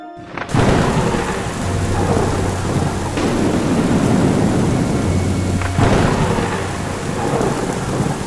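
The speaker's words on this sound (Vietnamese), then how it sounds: "một lát sẽ có mưa xuống" Thunder and steady rain in an animated Vietnamese fairy-tale cartoon. A loud crack opens into a heavy, continuous downpour with rolling rumbles and a second thunder peak near the end, and no voices are heard.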